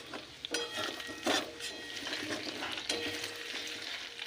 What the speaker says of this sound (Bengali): এটাকে আস্তে আস্তে ভেজে নিতে হবে লাল করে।